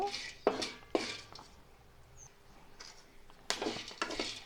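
Cloves and cinnamon sticks dry-roasting in a pan for homemade garam masala, heard as a few sharp scraping, clinking stirs against the metal, with quieter gaps between them; no one speaks.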